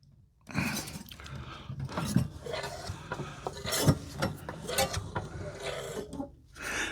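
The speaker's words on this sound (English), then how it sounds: "That metallic noise you can hear as this fan is slightly bent." A slightly bent fan blade on a 1930s two-stroke mower engine catches and scrapes as the engine is turned over, giving an irregular metallic rasping and clicking, close and fairly loud, with no voices.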